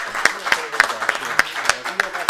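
An audience claps in appreciation after a book presentation, the sharp hand claps landing in a loose, uneven rhythm over about two seconds, fairly close and moderately loud.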